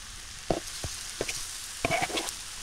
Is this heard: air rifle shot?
no